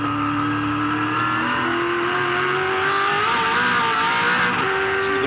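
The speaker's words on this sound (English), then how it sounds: "See the wheel spin." A 2007 V8 Supercars race car at Oran Park's turn 8 roars at full throttle, its engine note climbing steadily over five seconds with a hint of tyre squeal from wheel spin, loud and continuous with no voices.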